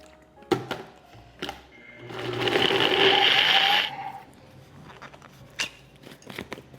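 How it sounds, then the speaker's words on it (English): Blender running for about two seconds, pulverizing dates with vanilla extract for a vegan Jamoca almond fudge ice cream, a steady whirring burst between quieter kitchen clatter and knocks. "we're just gonna blend this until those dates are completely pulverized"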